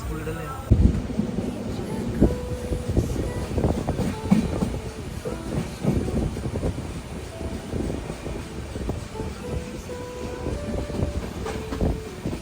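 A passenger train pulls into Thalassery railway station in Kerala, with a rumbling, clattering rail noise close by and a brief horn, all under steady station ambience.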